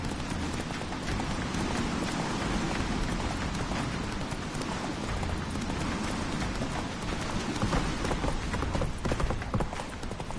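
Hoofbeats of the horse Roach galloping in The Witcher video game, a steady rapid clip-clop running the whole time under dense background noise.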